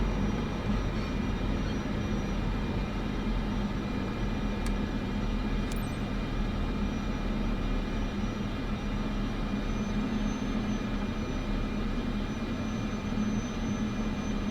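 A turboprop engine idles low on a Cessna in Microsoft Flight Simulator 2024, giving a steady, unbroken broadband drone that holds an even level throughout with no voices.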